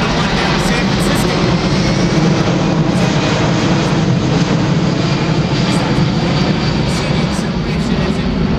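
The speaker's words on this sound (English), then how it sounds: "It's coming across show center at 83 miles an hour." A US Air Force C-17 Globemaster jet transport making a slow pass at about 83 mph over an air show, its engines giving a loud, steady, broadband roar that stays constant throughout.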